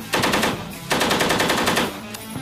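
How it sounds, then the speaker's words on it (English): A crew-served machine gun fires on a range in two loud close bursts, a longer rapid string followed by another sustained burst, with sharp rapid reports and no talk. "So we start them off with trigger control, firing 1 round, 2 round, 3 round. Rhythm shooting, short, short, long."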